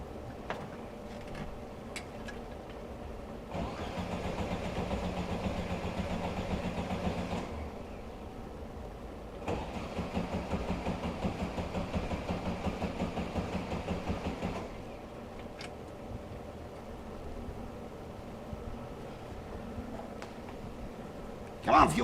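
A 1971 VW bus engine, freshly tuned with a new carburetor after sitting two years, cranks in two long, steady, rhythmic bursts of several seconds each without catching, with quiet talk in between.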